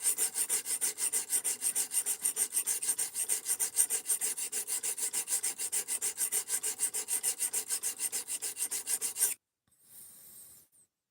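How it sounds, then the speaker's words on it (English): A knife is sharpened on diamond plates with steady, rhythmic back-and-forth rasping strokes, close and clear for about nine seconds, then stops, followed by a brief faint scrape. "all I'm doing is sharpening it. We got diamond plates right here."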